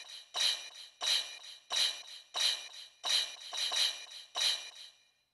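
A self-made shaker pattern plays alone, crisp and bright with an open, airy top, its separate shakes spaced in an even rhythm with short gaps between them.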